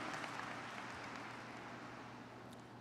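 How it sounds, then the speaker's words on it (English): Steady crowd applause fills a high school graduation ceremony hall, a continuous hiss of many clapping hands at moderate level that tapers slightly, without talk. "Please welcome her with a warm round of applause"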